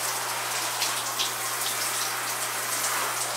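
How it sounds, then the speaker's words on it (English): Heavy rain falls steadily outdoors, a dense, even hiss of drops close by with a low constant hum underneath and no voices. "But it's raining pretty hard today."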